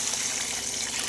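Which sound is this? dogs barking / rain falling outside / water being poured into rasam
water being poured into rasam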